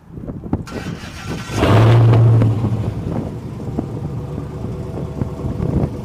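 A Dodge Hellcat's engine revs hard through the exhaust in one loud, rising burst that holds for about a second, then settles back to a rumbling idle.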